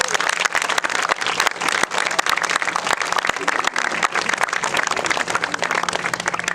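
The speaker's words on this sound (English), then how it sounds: "So please, give yourselves a big round of applause." Year 12 graduating students at their 2020 graduation ceremony break into loud, sustained applause from a large group, a dense mass of overlapping claps that carries on without pause.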